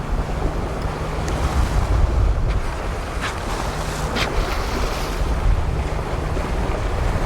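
The trawler Sea Venture cruises through the waves of Johnstone Strait, with a continuous rushing wash of water against the hull and gusty wind buffeting the microphone, loud and steady with no voices.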